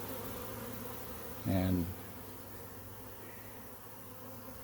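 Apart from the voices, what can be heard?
honey bee swarm buzzing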